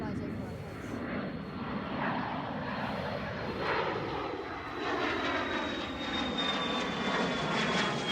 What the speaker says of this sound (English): It's a Learjet. He's a little plane.